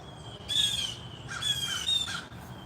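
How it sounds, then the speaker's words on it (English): Blue jays squawk outdoors in the morning, three harsh, bright calls in quick succession over a quiet background, fairly close. "There's my Blue Jays squawking this morning."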